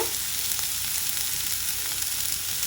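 Onions frying in a pan, a steady close hiss and crackle of sizzling oil continuing evenly throughout, with no talking.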